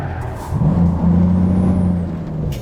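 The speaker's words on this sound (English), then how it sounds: "it's spinning its wheels in 10th gear" A Volvo truck in American Truck Simulator, spinning its wheels in tenth gear: a steady low engine drone with a sustained droning tone and a faint high whine rising over it, loud and continuous.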